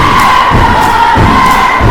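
Crowd and cheer team cheering at a middle school girls' basketball game in a gym, a steady loud roar of voices with rhythmic shouted chants and stomping thumps throughout.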